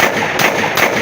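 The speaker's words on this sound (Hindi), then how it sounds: "इसके ऊपर हम टेस्ट फायर करते हैं" A China TT 30 bore pistol is test fired, about three loud, rapid, evenly spaced shots in quick succession, close and punchy.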